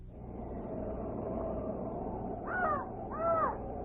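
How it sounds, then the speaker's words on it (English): A raven croaks twice in a radio drama, two harsh calls standing out over a steady hiss of background noise near the end. "I only hear a raven croaking."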